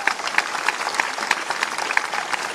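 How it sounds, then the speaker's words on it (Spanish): Crowd applause at an outdoor political rally commemorating a guerrilla offensive, steady, loud and continuous clapping with sharp individual claps standing out throughout. "¡Fuerte el aplauso!"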